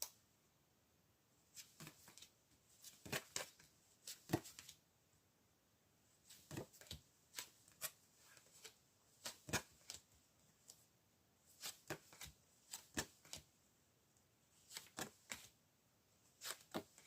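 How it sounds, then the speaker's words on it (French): Playing cards being shuffled and drawn in a tarot-style reading, heard as repeated crisp riffling bursts and snaps in clusters, fairly faint and close, with quiet pauses between and no talking. "Donc on peut essayer de tirer quelques cartes sur le secret ici."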